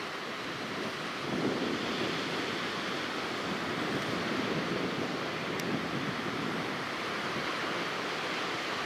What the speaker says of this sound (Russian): И как назло, море сегодня немного штормит.